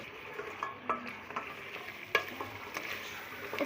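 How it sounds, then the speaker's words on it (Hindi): Mutton being stir-fried with freshly ground spice masala in a pot for aloo gosht, giving a steady low sizzle with scattered stirring scrapes and clicks throughout, close and fairly quiet. "अब जो ये मसाला पिसा था वो सारा हम इसमें डाल देंगे और अच्छे से इसको भूनेंगे 2 मिनट तक।"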